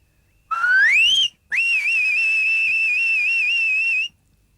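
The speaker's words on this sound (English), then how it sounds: "It was an amazing sound, and it reached Monsoon on the other side of the sky." A loud emergency whistle sounds twice: a short rising blast, a brief gap, then a long sustained shrill tone with slight wavering, alone in near silence.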